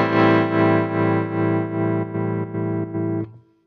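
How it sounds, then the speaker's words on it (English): Tremolo from a BOSS Nextone Stage guitar amp pulses a sustained distorted guitar chord in an even, regular throb of about seven beats before the sound cuts off. "you can choose tremolo if you wish to."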